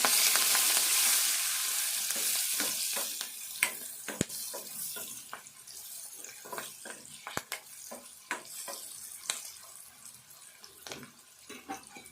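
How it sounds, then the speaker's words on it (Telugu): Ridge gourd and moong dal curry with turmeric sizzles in a pan, a loud frying hiss at first that fades as a spoon stirs and clacks against the pot in irregular, close knocks. "పసుపు కూడా వేసుకున్నాము. ఇదంతా కలుపుకుందాము."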